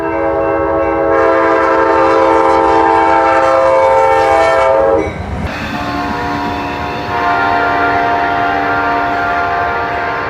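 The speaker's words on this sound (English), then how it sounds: "It has the best quill of the entire P-42 fleet, and especially the best horn full blast on its own." Amtrak P42 locomotive 171 blows its horn at full blast, a loud, sustained chord held for about five seconds, then sounded again after a short dip, with rail noise underneath.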